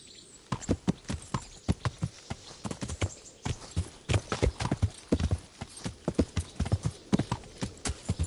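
Rhythmic clip-clop of horse hooves in the video game Kingdom Come: Deliverance, a steady trotting pattern of sharp, close knocks continuing throughout.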